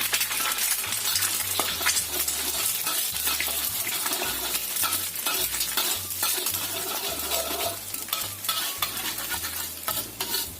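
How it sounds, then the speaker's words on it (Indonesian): Steady sizzling and frying of scrambled egg whites in hot oil with stirring scrapes, loud and continuous, no voices. "Ini kita goreng telur orak-arik."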